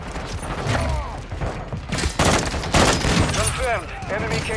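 Rapid bursts of gunfire in a first-person shooter video game, crackling fusillades mixed with game effects and a voice calling out over the shooting.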